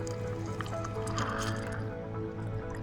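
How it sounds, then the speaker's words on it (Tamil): Water trickles and splashes into a miniature cooking pot while tomato rice is being made, a soft, close, continuous pour with faint drips and a low background hum. "இப்போ நம்ம இதில் தண்ணி ஊற்றி அரிசியை போட்டுக்கலாம்."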